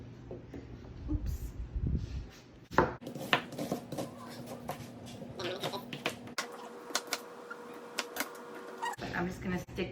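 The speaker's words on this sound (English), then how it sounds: "Start chopping your onion." An onion is chopped with a knife, producing a string of quick, close, crisp knocks against a cutting board, with a voice murmuring faintly in the background at times.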